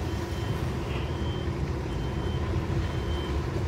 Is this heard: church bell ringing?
no